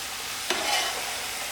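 Pumpkin braising in a pot sizzles steadily, with a single brief scrape of a stir near the start.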